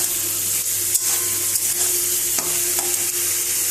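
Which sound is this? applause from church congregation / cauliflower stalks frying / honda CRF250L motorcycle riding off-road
cauliflower stalks frying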